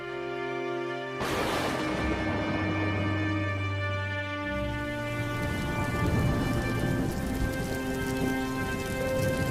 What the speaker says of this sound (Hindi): इतनी ठंड में यह जोरदार बारिश भी होने लगी।